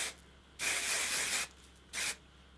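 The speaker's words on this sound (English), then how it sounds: "So today I'm going to use my Kevin Murphy Bedroom Hair one" Kevin Murphy Bedroom Hair texturizing spray misted onto short hair in two bursts, one long hiss of almost a second and then a short puff, close and crisp.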